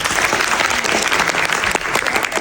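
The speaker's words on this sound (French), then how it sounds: "Elle a présenté et ils ont applaudi parce que je suis dans le jury." A high school audience claps steadily through a jury-judged thesis presentation final, dense, loud, continuous applause with no voices.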